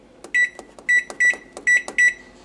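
An old Breadman-style bread maker, a Bread Chef model around 15 years old, beeps five times in a steady series of bright electronic tones while being set to its dough cycle, with faint clicks between the beeps.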